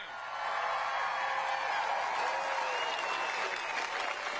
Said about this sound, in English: Come on, give a round of applause for them